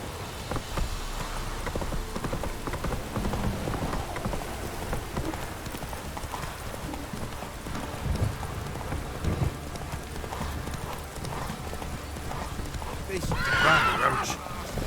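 Horse Roach from the game The Witcher 3 gallops with steady clip-clop hooves and whinnies over rain, with a louder neigh near the end and a voice speaking over it.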